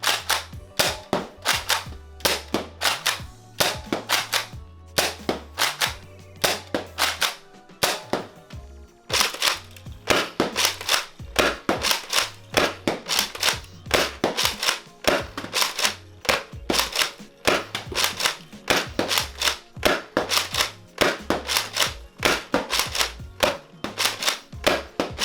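Repeated sharp pops of X-Shot Chaos foam blasters firing, fast bursts of loud snappy shots in steady rapid rhythm with brief pauses, close and dominant over a low background hum.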